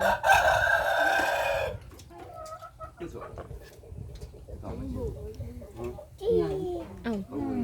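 A rooster crows loudly and close at a rice-field hut, a long strained call, followed by clucking hens and a voice chattering among the birds.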